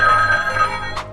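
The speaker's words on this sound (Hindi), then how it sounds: "डैरी फोन के पास होता है कि अचानक फोन आता है।" A telephone suddenly ringing in a horror film, a short bright electronic ring heard alone and fairly loud, ending in a brief higher burst.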